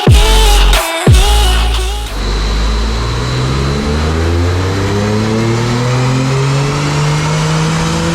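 A Ford Focus ST225 with a stage 2 tune revs hard on a dyno pull, climbing steadily in pitch as it accelerates under load, loud and close, after a couple of short blips at the start.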